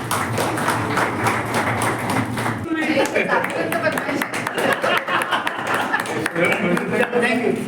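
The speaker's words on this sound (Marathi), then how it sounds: "आपण चंदू भैयांचं टाळ्या वाजवून स्वागत करू।" An audience at a film event held at an animation college in Amravati claps to welcome a guest on stage. The dense, fairly loud applause runs throughout, with a voice talking over it.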